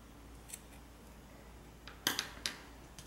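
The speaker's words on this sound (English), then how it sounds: "I'm going to go ahead and cut these tails." Scissors snip crochet yarn tails on a granny square bag, a couple of light clicks at first and then a quick cluster of three or four crisp close cuts over faint room hiss.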